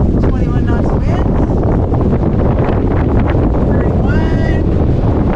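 Strong wind roars across the microphone aboard a sailboat crossing the Pacific, loud and constant buffeting with water rushing beneath, while voices speak faintly through it.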